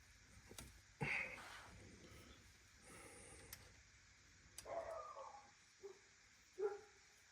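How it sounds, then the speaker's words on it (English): Several dogs bark and yip at coyotes somewhere outdoors at a distance, in scattered short bursts with quiet gaps between them and a faint whimpering quality to some calls. "My dogs are barking at coyotes right now."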